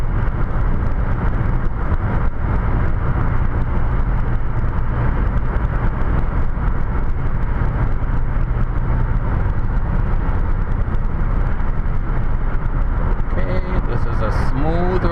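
A car cruising along a highway into Toronto, with steady broadband road and engine rumble running continuously throughout, close and fairly loud inside the cabin.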